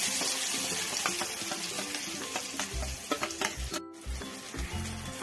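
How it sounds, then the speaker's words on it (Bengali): A paste for stuffed kakrol filling hits hot oil in a wok, giving a loud, continuous sizzle with spoon scrapes and clatter running through it and a short dip near the end. "কড়াইতে সামান্য পরিমাণ তেল নিয়ে নিয়েছি, তেলটা গরম হয়ে গেছে। এবার এর মধ্যে আমি এই পুর তৈরি করার জন্য পেস্টটাকে ঢেলে দিচ্ছি।"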